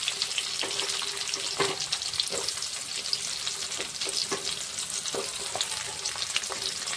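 Chopped onion frying in hot oil with garlic, curry leaves, cumin and mustard seeds, a loud continuous close sizzle broken by intermittent stirring scrapes and clicks.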